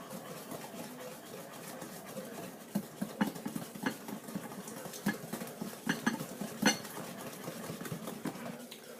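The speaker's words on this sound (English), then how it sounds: "Just whisk all that up, put that aside." Whole eggs, egg yolks and sugar whisked together in a bowl for a coconut rum flan custard, giving a steady, busy scraping patter with sharper clinks of the whisk against the bowl toward the middle.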